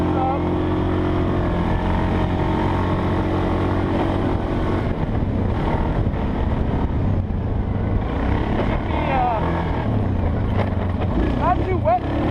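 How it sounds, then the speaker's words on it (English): Engine drone of a Suzuki KingQuad 750 four-wheeler ATV out on a dry trail ride, riding alongside a Kawasaki Brute Force 750, steady and loud throughout with someone talking over it. "Four-wheelers out for a ride."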